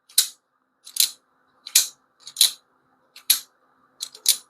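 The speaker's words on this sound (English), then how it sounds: "Kind of got like a clickety clack, and it's really super smooth, open and closing" A Flytanium Arcade folding knife is flicked open and shut repeatedly, giving crisp, close metallic clicks in quick pairs, about six bursts spaced evenly apart with silence between.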